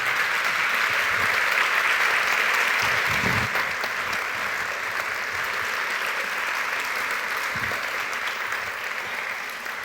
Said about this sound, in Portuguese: peço o vosso aplauso para Sérgio Godinho